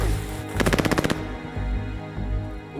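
A rapid burst of video game machine gun fire, about a dozen sharp evenly spaced shots in roughly half a second, loud and close. A low ambient game rumble continues afterward.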